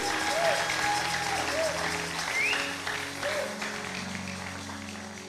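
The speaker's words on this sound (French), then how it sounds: "Acclame le Seigneur si tu es là." A church congregation applauds during a French-language sermon, a sustained wash of clapping with scattered vocal cries and whoops mixed in. The applause gradually thins and fades out.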